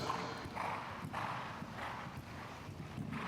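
Horse hooves clip-clop in a steady rhythmic gait during a riding lesson in an arena, moderately close, with repeated muffled thuds and faint background murmur.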